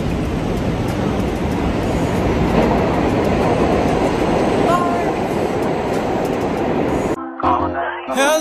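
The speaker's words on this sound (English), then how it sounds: "I'm in the subway." A New York City subway train rumbles and roars steadily at close range, with faint squeals and rattling, then cuts off abruptly to a brief quieter moment.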